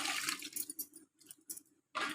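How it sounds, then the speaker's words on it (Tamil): Pearl millet being rinsed by hand in water, with sloshing swishes and wet splashes in short bursts separated by quiet gaps, ending in a louder swirl, close and without voices. "மறுபடியும் கொஞ்சம் தண்ணி சேர்த்து நம்ம இதை நல்லா அலம்பிக்கலாம்."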